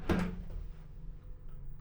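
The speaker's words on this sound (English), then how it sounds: "Close the door." A thick cruise ship cabin door on the MSC Seaside swings shut with one short thud, and a quiet low hum from the cabin lingers afterward.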